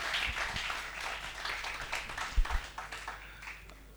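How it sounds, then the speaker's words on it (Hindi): An audience at a Hindi poetry recital applauds poet Anil Samota, a fairly faint, steady patter of many hands clapping that thins out toward the end. "तो एक बार तालियां बजाइए और अभिनंदन कीजिए अनिल समोता साहब"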